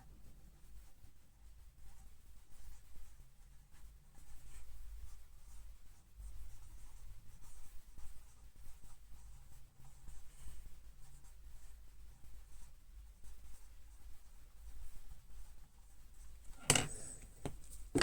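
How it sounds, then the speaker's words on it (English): A pen writes on paper, a faint, soft, steady scratching that runs continuously and close with slight swells, ending in one sharp tap. "you write down this."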